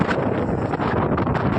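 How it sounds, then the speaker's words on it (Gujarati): Strong wind at Netanya beach in Israel buffets the microphone with a loud, continuous roaring rumble that drowns out everything else, close and unbroken. "અને પવન વધારે છે, કદાચ મારો અવાજ કોઈ ના આવતો."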